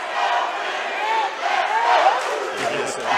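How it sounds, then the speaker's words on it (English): An arena crowd at a regional MMA fight night chants and roars together in a sustained, dense wash of voices, loud and continuous throughout. "Crowd chanting along."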